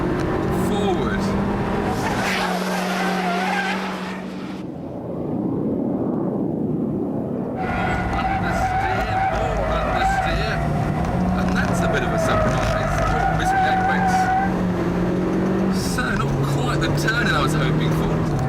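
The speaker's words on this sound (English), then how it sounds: "Grabs hold of the tarmac and launches this Focus forward." A Ford Focus fitted with a racing differential accelerates hard on tarmac, its engine rising and falling through gears, loud and close, with someone talking over much of it.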